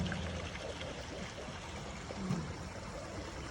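River water flowing steadily nearby in a suburban outdoor setting, a soft continuous wash and trickle with a faint gurgle, fairly quiet and even throughout, no talking.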